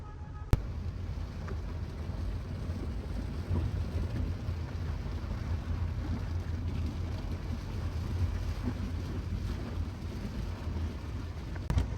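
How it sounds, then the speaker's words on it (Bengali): Soft, steady rain hisses in the background while low thunder rumbles faintly in the distance, heard from inside an air-conditioned car. "বাহ কি সুন্দর বৃষ্টি"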